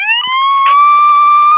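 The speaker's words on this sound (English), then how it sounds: "Sirens too loud!" Police car siren in the video game Go To Town, a loud sustained wail holding a steady pitch throughout, with layered harmonics and a brief clatter near the middle.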